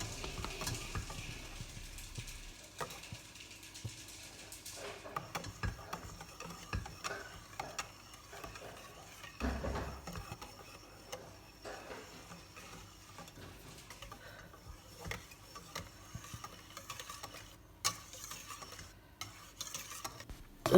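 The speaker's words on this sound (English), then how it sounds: "So just keep stirring until the mixture becomes thick" A spoon stirs yema cake filling in a pan with soft, faint, repeated scraping strokes over a quiet background, with no talk.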